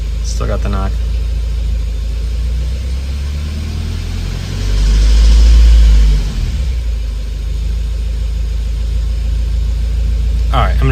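A Subaru WRX engine with a rod knock idles nearby in a steady low rumble, briefly swelling louder midway before settling back, with faint knocking beneath it.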